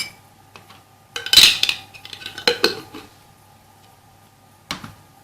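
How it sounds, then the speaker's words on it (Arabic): A spoon mixing honey with other ingredients in a small dish for a homemade cough remedy, giving a few bright clinks and scrapes of metal on the container in short bursts, with quiet pauses between them. "تخلط جميع المكونات."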